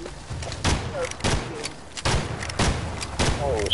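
Gunfire in the video game Evil Dead, sharp broadband shots landing in an irregular burst of about five or six, fairly loud, with a player's voice talking over the action.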